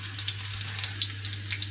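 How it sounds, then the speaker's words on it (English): Steady, crackling sizzle of garlic frying in hot chicken fat in a wok, continuous and close, with small pops scattered throughout and no voices. "So the garlic is sizzling in my wok."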